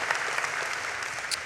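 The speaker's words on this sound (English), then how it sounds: "How about another round of applause for our guest speaker here today as well." Graduation ceremony audience applauding the guest speaker, a dense, even burst of many hands clapping throughout, filling the hall at steady volume.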